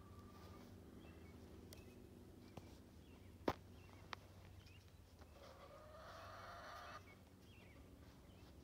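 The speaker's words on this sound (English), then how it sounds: "the roosters are coming back to life again" Roosters crowing faintly in the distance during a solar eclipse in rural Walsingham, Ontario, near Lake Erie, one drawn-out crow rising over a quiet outdoor hum, with a few sharp clicks nearby.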